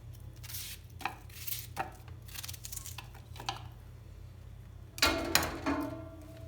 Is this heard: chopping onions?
yes